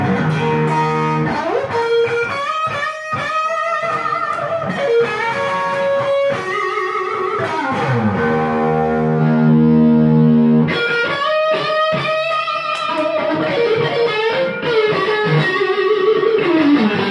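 A distorted electric guitar played through a Jensen Standard Deluxe speaker rings out with sustained, overdriven notes, bends and chordal phrases, loud and continuous with no talk.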